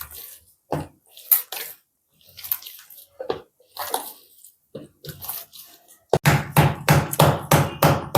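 Hands slap and pat a ball of maize-flour roti dough in a North Karnataka-style kitchen, giving sharp repeated thuds. Near the end the pats come fast and steady, and the strikes are louder and closer together.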